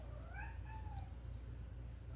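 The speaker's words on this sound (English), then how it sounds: "That's my kitty Snickers." A pet cat meows softly indoors, a short rising-and-falling cry heard faintly over a low steady background hum.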